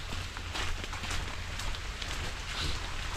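Steady light rain falling in a forest during the rainy season, a dense, even patter all around at close range with no one speaking.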